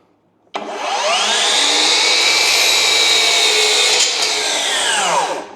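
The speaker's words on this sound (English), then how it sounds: "let's cut some 2-inch maple" A FLEX 12-inch miter saw cuts through 2.5-inch maple. It starts with a sudden loud spin-up into a sustained, high whining cut that holds steady for several seconds and then winds down as the blade slows. There is no talk.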